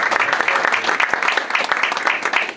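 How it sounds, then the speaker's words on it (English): Audience at an Albanian American community event in New York breaks into dense, sustained applause, a loud, even wash of many hands clapping together. "Give yourselves a round of applause."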